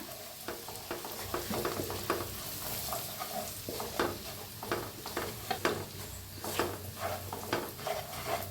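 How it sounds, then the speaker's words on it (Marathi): Masala spice mix dry-roasting in a pan over low heat, with steady stirring scrapes and a soft, continuous sizzle heard up close, alone and without talk. "आता मसाला चांगला भाजायला लागलाय आपला."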